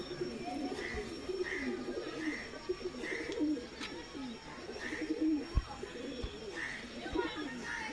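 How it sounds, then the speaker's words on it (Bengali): Pigeons coo steadily in a loft in Habra, soft repeated rounded calls overlapping at a gentle rhythm, moderately near, over a low murmur of background noise with occasional thumps. "আর কিছু পায়রা উঠছে, নাহলে আমি দেখাতে পারতাম ওই পায়রা।"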